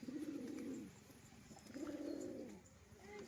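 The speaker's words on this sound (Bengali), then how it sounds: "দেখে নিন, ডাক করছে পায়রা" A healthy pigeon for sale coos nearby in two long, soft, throaty phrases with a short pause between them, with no voices.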